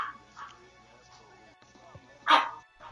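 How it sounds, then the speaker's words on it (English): A small dog gives a few sharp yaps and soft whimpers, ending in one louder bark, with quiet background noise between. "Little dog over here thinking she's somebody"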